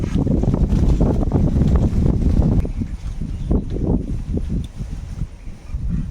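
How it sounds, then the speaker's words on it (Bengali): Low, gusty breeze rumbles against the microphone beside open, waterlogged fields in the Sundarbans, stronger at first and then easing into softer buffeting. "বেশ ফুরফুরে হাওয়া হচ্ছে"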